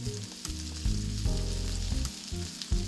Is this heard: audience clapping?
no